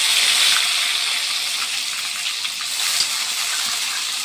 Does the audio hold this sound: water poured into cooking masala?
yes